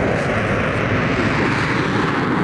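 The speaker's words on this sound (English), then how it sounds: "Now look to our right, starting his takeoff. This is the Typhoon, Eurofighter Typhoon." A Eurofighter Typhoon jet starting its takeoff run at the Farnborough Airshow, a loud continuous roaring engine blast that fills the whole clip.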